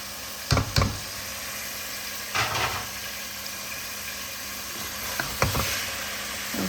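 Chopped vegetables with tomatoes and spices sauté in a pan, giving a steady soft sizzle broken by a few sharp knocks of a spoon against the pan, without speech.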